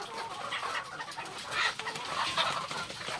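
Several laying hens cluck and chatter together in a steady, busy stream before feeding, fairly close, with no talking.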